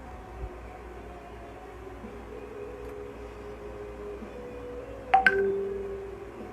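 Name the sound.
WhatsApp notification sound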